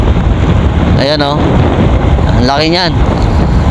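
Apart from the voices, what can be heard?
strong wind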